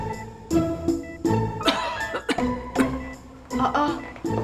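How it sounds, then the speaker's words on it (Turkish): A person coughs repeatedly indoors, several close, sharp coughs in an irregular series with some throat clearing, no talking during the coughs. "babam mı öksürdü? Ben öksürdüm."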